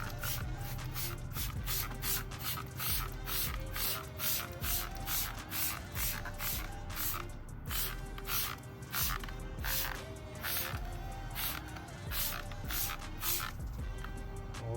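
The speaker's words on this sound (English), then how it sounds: "we'll spray down the tire with those tire cleaners" Repeated short hissing bursts of tire cleaner sprayed onto a car tire during a vehicle wash, a quick steady rhythm of trigger pulls close to the microphone.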